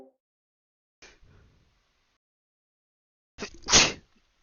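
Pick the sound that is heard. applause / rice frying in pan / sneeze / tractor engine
sneeze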